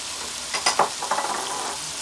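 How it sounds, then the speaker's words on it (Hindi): Ground coriander, turmeric, salt and red chilli frying in a pan for mixed dal, a steady soft sizzle with a few brief scraping stirs in the middle. "अब हम इसको भूनते हैं।"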